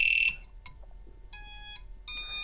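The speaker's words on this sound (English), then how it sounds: "So I unplug and it starts beeping at me." A ViFly Finder lost-model buzzer sounds after being unplugged: loud, piercing electronic beeps in short bursts separated by brief gaps, close to the microphone and heard on their own.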